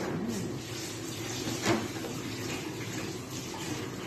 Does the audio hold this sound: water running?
yes